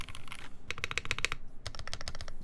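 Typing on a white Cable Car Designs Prophet mechanical keyboard with a bright sound, heard as close, quick bursts of crisp keystrokes separated by short pauses, with no talking.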